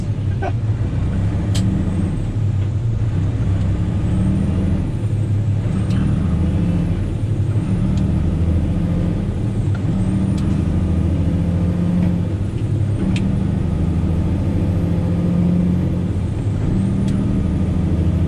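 A heavy truck's engine drones steadily from inside the cab, with a few brief hissing air releases and faint rattles along the way.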